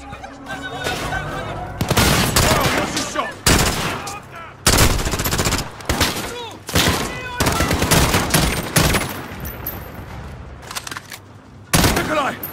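Gunfire in the video game Call of Duty: Modern Warfare, Old Comrades mission on Veteran difficulty, with repeated bursts of automatic fire and single shots in an uneven rhythm, loud and close, separated by short gaps and accompanied by some voices.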